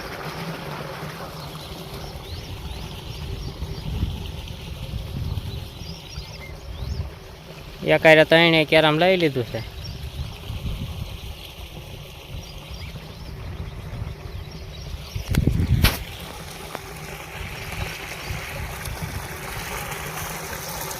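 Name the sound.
water flowing from a motor pump in a farm field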